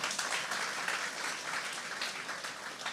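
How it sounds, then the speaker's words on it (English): Audience applause at a fundraising dinner, a soft, steady wash of many hands clapping heard from a distance, even and continuous without breaks. "let's give our councilman another round of applause"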